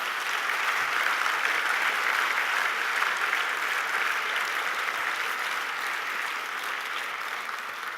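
Sustained audience applause at an awards dinner for an honoree, broad and even, fading slightly toward the end.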